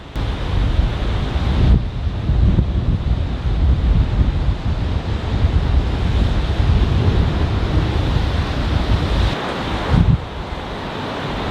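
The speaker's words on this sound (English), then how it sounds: "We got a storm coming right now. These humongous waves." Huge ocean waves surge and crash steadily before a storm along the coast by Highway 1, a loud continuous roar mixed with wind buffeting the microphone, with brief dips near the start and close to the end.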